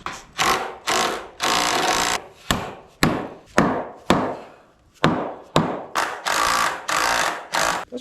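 Carriage bolts are hammered into wood while building a chicken shelter, giving a series of loud, sharp strikes and rasping scrapes, each ringing briefly before the next, in an uneven rhythm close by.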